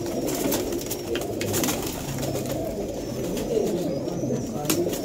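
Sialkoti pigeons coo in low, rolling murmurs that run on continuously through the clip, close and fairly loud, with faint speech-like sounds and some other bird noise mixed in.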